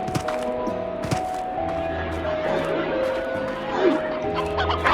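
A hen clucks in the video game Slime Rancher, a few short clucks over a steady bed of tonal game music with occasional soft thumps.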